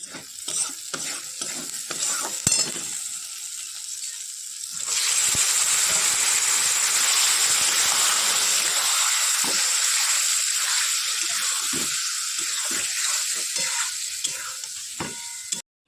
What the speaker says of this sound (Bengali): চলো এটাকে একটু ভালো করে কষিয়ে নিই।